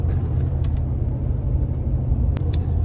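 A car drives along a road late at night, heard from inside as a loud, steady low rumble of engine and road noise, with a couple of brief sharp clicks near the end.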